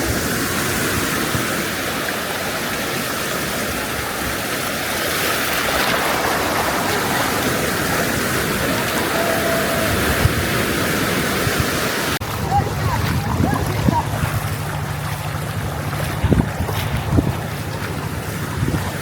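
Incoming tide waves roll ashore at Nidrar Chor beach in Barishal, a loud continuous surf wash mixed with heavy wind buffeting the microphone; the roar drops partway and leaves quieter water with faint knocks.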